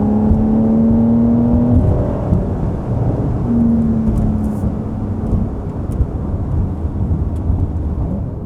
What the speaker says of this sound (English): What an engine this 3-liter flat 6 turbo is.